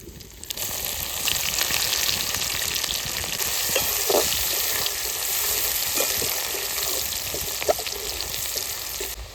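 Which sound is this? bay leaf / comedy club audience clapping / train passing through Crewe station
bay leaf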